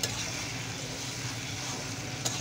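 Taro chunks sautéing in a pan with turmeric, chili, coriander and salt give a steady close sizzle with soft stirring scrapes throughout, no talking.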